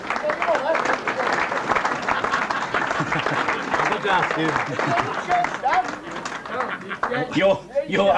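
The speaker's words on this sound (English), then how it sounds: "Let's have a round of applause for Stan." Dinner guests at a celebration clap for Stan McCormack, dense close applause mixed with chatter and raised voices around the tables.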